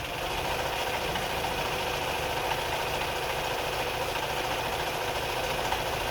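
A Bernina 830 Record sewing machine runs steadily while sewing stitches, an even, continuous mechanical whir and rapid clatter at moderate loudness, alone with no talk.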